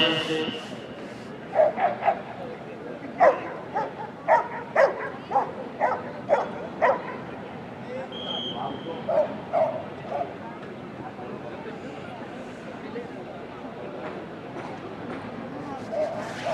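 A police dog barks in a series of sharp, separate yaps and bow-wows during a rehearsal for a dog show, loud and fairly close, then gives way to quieter background noise.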